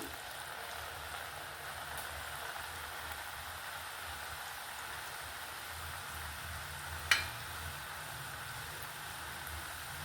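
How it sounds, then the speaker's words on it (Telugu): Murukulu (janthikalu) dough frying in hot oil, a steady broadband sizzle and bubbling that holds evenly throughout, with one brief sharp crackle partway through and no talking. "ఇలా ఇది స్లోగా ఆయిల్లో వేసుకుందాం."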